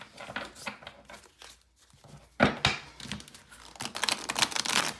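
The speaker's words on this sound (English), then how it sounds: "I'm gonna shuffle a little bit" Tarot cards being shuffled by hand during a reading, a run of crisp riffling and rustling bursts with brief pauses between, close and fairly loud, no voice present.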